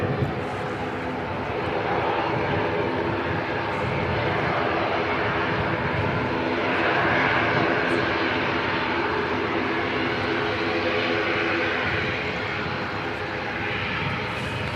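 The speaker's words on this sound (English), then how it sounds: "Rotorua bound ATR on screen" An ATR turboprop airliner bound for Rotorua, heard from an airport spotting spot at Christchurch, gives a steady, fairly loud engine drone that holds evenly for about fifteen seconds with no voices.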